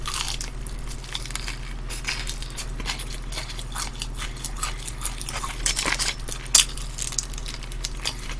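Crunchy fried chicken wings are bitten and chewed close up in a mukbang, giving repeated crisp crunches and wet chewing throughout with no talk.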